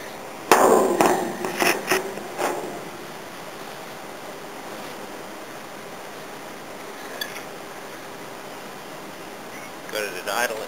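An old lawn mower engine being pull-started, with a few loud, rough bursts in the first couple of seconds that settle into a steady, low running drone, picking up again briefly near the end.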